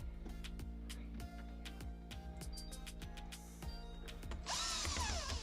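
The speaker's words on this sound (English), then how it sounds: "Go ahead and install the last 3 screws." A power drill drives screws into an LG refrigerator ice maker, its motor whirring steadily and close with short stops and restarts between screws, rising in pitch near the end.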